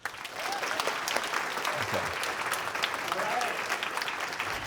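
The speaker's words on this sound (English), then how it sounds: "Give another round of applause." Steady, dense applause from a sizable conference audience, continuous clapping at a fairly even level throughout with faint voices mixed in.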